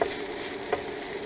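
Hash browns sizzle and fry in a Copper Chef pan on an RV stove, a steady close crackle with a brief louder spatter partway through.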